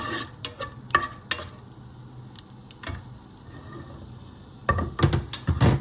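Chana dal frying in hot oil in a pan, a soft steady sizzle with scattered clicks and scrapes from stirring, louder clattering bursts near the end.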